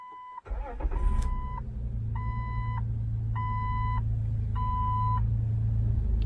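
A 2006 Jeep Wrangler TJ Sport starts after a starter replacement: a short crank catches into a steady idle, while repeated chime beeps sound in regular bursts over the running engine.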